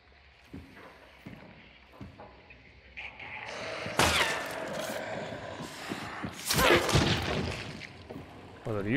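Gunfire in a first-person shooter game, with loud bursts of shots near four seconds and again around six and a half seconds, mixed with clattering game noise and a voice talking.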